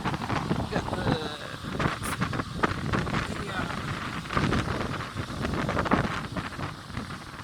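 Strong wind buffets the microphone at Wollongong Beach, a steady gusting roar that runs throughout, with someone talking over it.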